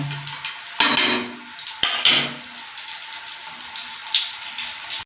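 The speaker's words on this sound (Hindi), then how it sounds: "ये देखें, टिक्की हम इस तरह फ्राई कर रहे हैं।" Aloo tikki potato patties sizzle and crackle in hot oil in a pan, with a steady close frying hiss and a few sharp clinks of a utensil against the pan.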